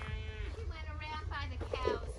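Cattle moo on a farm during an escape, with several drawn-out, close calls rising over steady low rumble and background noise.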